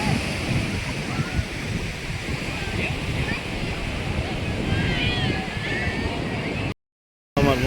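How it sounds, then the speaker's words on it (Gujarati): Sea waves wash and break at Somnath beach in a continuous roar close by, with wind rushing across the microphone and a brief dropout near the end. "જો એના મોજા જો મોજા"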